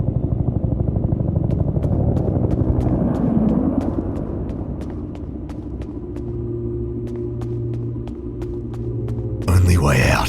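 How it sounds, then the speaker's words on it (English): Evac helicopter arriving in a survival video game, a steady low rotor rumble and hum with regular blade thuds, loud and close throughout, ending in a sudden burst of noise. "Is that the evac chopper?"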